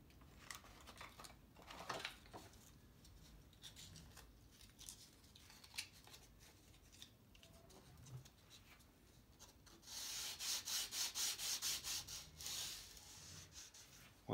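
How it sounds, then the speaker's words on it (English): Sandpaper rubbed by hand over the flats of a swivel breech rifle kit part, a close dry scratching in repeated strokes that grows louder and quicker near the end. "I'm gonna take that sandpaper and just take that off and do it again."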